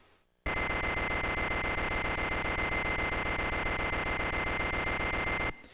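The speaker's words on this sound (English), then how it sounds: "It's the most annoying alarm clock ever." A harsh, continuous electronic buzzing alarm blares at full volume for several seconds without a break, then cuts off abruptly.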